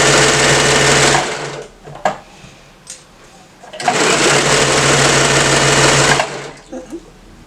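A sewing machine sews a romper, whirring loud and close in two steady bursts separated by a pause with brief handling clicks.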